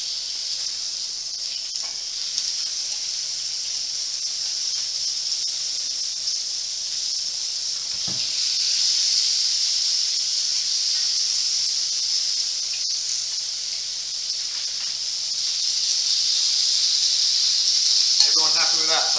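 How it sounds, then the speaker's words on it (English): Balsamic-marinated vegetables such as aubergine sizzle on a hot grill, giving a steady, even hiss that carries on without a break and grows slightly louder toward the end. "So, grilling, we want to see the lines, yes, don't be frying it, don't be stirring it around."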